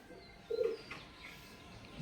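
Pigeons at home give a soft, low coo about halfway through, a brief murmur against quiet outdoor ambience, with another faint coo starting right at the end.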